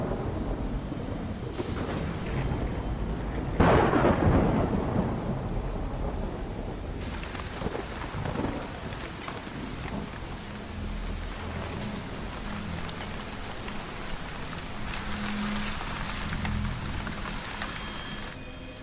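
A thunderstorm with steady falling rain, a loud close thunder crack early on followed by continuous rain hiss and low rumbles.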